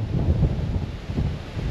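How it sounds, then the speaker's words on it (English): Wind blows outdoors on a warm 25-degree day on the road up to Lake Mountain, buffeting the microphone with a low, gusty rumble that swells and dips throughout, loud and close, with no talking. "It's a bit windy out here"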